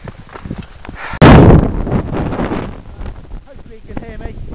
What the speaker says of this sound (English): the wind in my face from the side at the same time